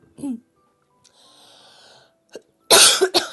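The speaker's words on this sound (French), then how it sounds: "Si je pouvais arrêter de tousser pendant la vidéo" A single short cough near the mic, then quieter breathy sounds and a burst of harsh coughing at the end.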